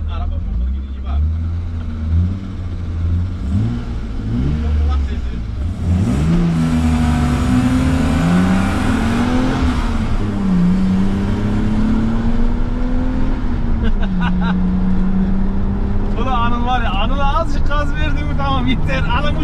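Two BMW E36 cars are on the road, their engines droning and revving with rising and falling pitch. The sound is loud and continuous and runs through the whole stretch, with voices talking over it.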